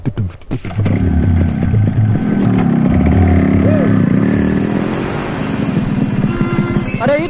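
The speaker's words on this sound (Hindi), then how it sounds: "चला हटा मोटरसाइकिल तो खड़ा कर दा।" A motorcycle engine rumbles loudly and close by, holding a steady running drone for several seconds after a brief louder start, with faint background voices.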